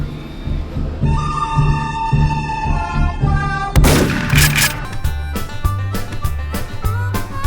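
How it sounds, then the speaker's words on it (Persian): Guns fire at a Wild West saloon shooting gallery in Texas: one loud impact, then a run of sharp, regularly spaced shots over steady background noise. "50 سنت میده میتونی یه مقدار تیر بزنی."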